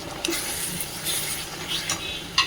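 Cooked-down masala sizzles steadily in a pan as a splash of kewra water goes in, with a continuous hiss, occasional stirring scrapes and a sharper clink near the end, close up and without talk.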